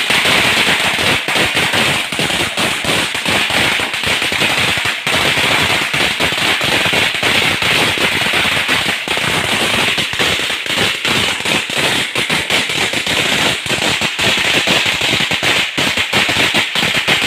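Firecrackers set off during Hari Raya celebrations in Kuala Kangsar, Malaysia, a loud nonstop string of rapid sharp cracks and pops, dense and machine-gun-like, crackling on without a break.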